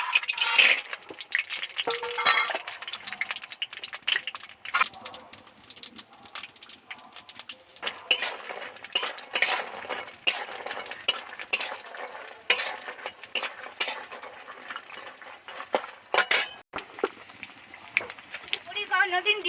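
Lentil dumplings (bori) fry in white oil in a pan. A spoon stirs and scrapes busily in quick, uneven clinks over a soft sizzle, with a voice in the background.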